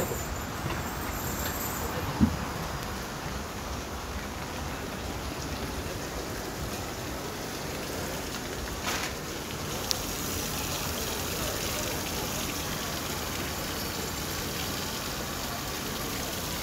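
Heavy rain pours steadily on a street in Verona, Italy, a dense continuous hiss of falling water with a couple of faint knocks, no voices.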